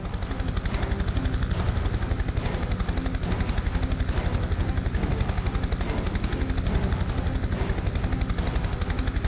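Helicopter rotors thump loudly and steadily throughout, a continuous close chopping drone in the Prototype 2 video game, with faint crackles of gunfire mixed in.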